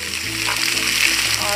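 Chopped onion frying in a pan with bay leaf: a loud, close, continuous sizzle and crackle of hot oil, with faint stirring.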